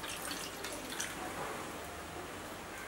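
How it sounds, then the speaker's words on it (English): Water is poured into a bowl to start a yeast liquid mixture for eggless burger buns: a faint, steady, hissing trickle that runs evenly for about three seconds with no talking. "In a bowl, I'm going to put 1/2 cup of water"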